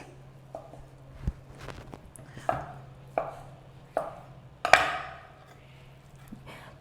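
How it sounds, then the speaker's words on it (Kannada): A knife cuts a block of low-fat paneer into small cubes on a board, making a series of separate, sharp chops with quiet pauses between them and one heavier chop near the end. "ಇದನ್ನ ಚಿಕ್ಕ ಚಿಕ್ಕ ಕ್ಯೂಬ್ಸ್ ಮಾಡ್ಕೊಳ್ಳಿ"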